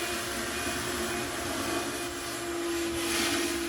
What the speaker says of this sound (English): now we're removing the water with a shop vac